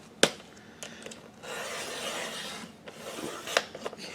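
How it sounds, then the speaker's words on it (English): Kraft sticky paper is sliced on a paper trimmer: a sharp snap at the start, then a steady raspy scraping cut lasting a couple of seconds, with a few light clicks and taps, close and fairly quiet. "I'll put it in my trimmer and do it that way."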